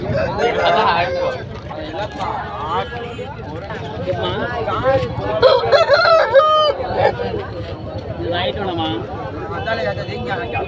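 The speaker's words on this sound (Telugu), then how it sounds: "వీడియోలో కనిపిస్తుంది కాకిటేక పుంజు" Kaki Teka roosters crow repeatedly over a busy background of chatter and general noise at the Rayachoti weekly market in Kadapa district; the crowing rises and falls among other fowl sounds.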